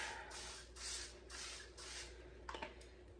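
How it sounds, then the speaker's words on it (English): Cooking spray hissing into a plastic crockpot liner in several short bursts of breathy spray, close and moderately quiet, followed by light rustling and clicking of handling. "you're gonna want to spray it down with your cooking spray"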